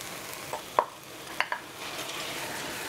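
Diced onion and chili peppers cooking with spice paste for Indonesian chicken in yellow coconut sauce, heard as a soft steady sizzle with a few quiet stirring clinks and scrapes, no voices.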